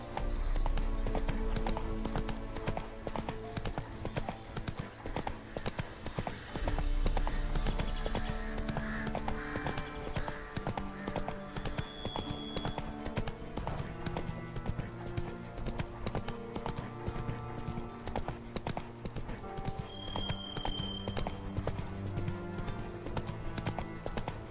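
In The Witcher 3 video game, the horse Roach gallops with steady, rhythmic hoofbeats that continue for the whole stretch. A soft musical backdrop sits beneath them.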